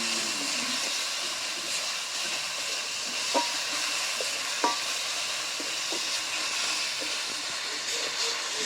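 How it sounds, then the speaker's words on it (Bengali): Masala spices with turmeric, chilli paste and chilli powder sizzle steadily in a pan for Bengali dhaba-style egg tadka, a continuous close frying hiss broken by a few soft stirring clicks, with no talking. "এবার আমি ভালো করে মশলাটা একই সাথে কষে নেব।"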